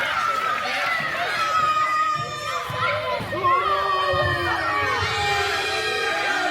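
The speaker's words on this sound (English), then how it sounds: "But we hear it right now, this Ladonia crowd loves himself some Ronin." A large wrestling arena crowd cheers and roars loudly and continuously, with shouts and whistles rising above the din, close and dense throughout.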